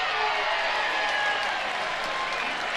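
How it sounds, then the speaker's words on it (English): A lively college softball stadium crowd cheers and claps during an Oklahoma vs Alabama game, a steady roar of applause and voices throughout, with faint commentary talk beneath it. "They roared as loudly for that as they did the run coming across."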